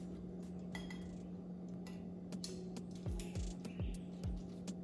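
Dishes and cutlery clink and clatter softly while tuna salad with tomato, corn and lettuce is plated, several light taps and scrapes over a steady low hum, fairly distant and quiet.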